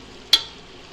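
Masala spices for chicken biryani (red chilli powder, turmeric, coriander powder, mutton masala and biryani masala) being sautéed in a pan: a single sharp spatula scrape over a faint, steady sizzle, no talking.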